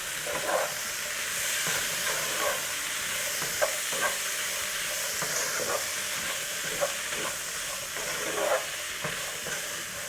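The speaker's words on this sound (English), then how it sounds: "In goes the chickpeas. And the paneer. Good mix." Chickpeas and paneer fry in a pan with a constant sizzling hiss, while a utensil stirs through them with repeated soft scraping taps, close by and without speech.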